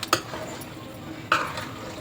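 A spoon gently stirs paneer biryani ingredients in a pot, giving two soft scraping clinks about a second apart over a quiet background.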